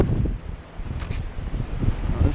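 Gusty wind of around 30 knots rushes over a winter sailboat on open water in Norway, a steady low roar with surging buffets against the microphone and faint hiss of spray.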